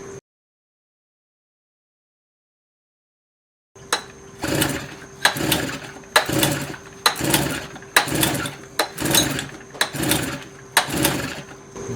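Tohatsu 8A outboard motor with a homemade water pump and shortened leg, starting after several seconds of silence and then running with a loud, pulsing, regularly repeating chug.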